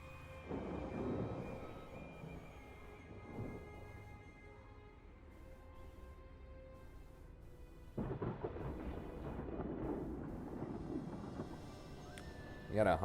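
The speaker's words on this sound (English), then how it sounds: "And those storms are raging." Thunder rolls through a storm in a Total War: Warhammer 2 battle map, low distant rumbles swelling and fading beneath quiet game ambience, with a heavier burst partway through.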